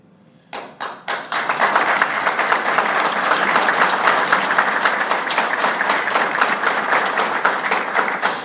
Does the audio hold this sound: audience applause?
yes